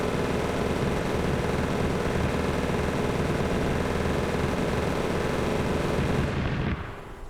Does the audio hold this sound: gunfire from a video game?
yes